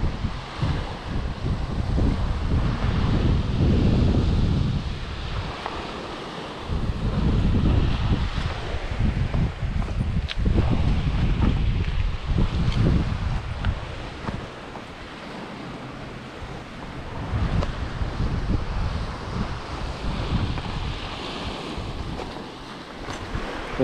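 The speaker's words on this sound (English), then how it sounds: "A little windy." Wind gusting at a state park lakeshore near dusk, a steady roar with surging gusts and microphone buffeting, mixed with lapping waves, continuous and fairly loud throughout.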